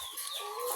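Chickens on a poultry farm cluck softly in a brief, faint snatch of barnyard sound, heard alone without talk.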